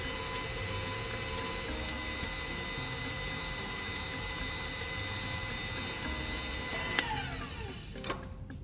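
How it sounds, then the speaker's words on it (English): A stand mixer runs steadily, beating cake batter at high speed with a constant whirring motor hum, and a sharp clink and a softer knock land near the end. "with the mixer running, I'm going to continue to add them"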